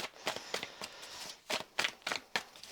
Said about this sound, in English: let's have a little bit more of a shuffle